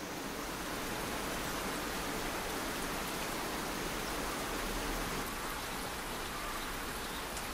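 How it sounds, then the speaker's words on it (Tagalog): Steady, heavy late-afternoon rain pours down continuously outdoors in the mountains of Bukidnon, Philippines, a dense even roar of drops with no pauses and no voices. "kusog kayo ang ulan sa gawas"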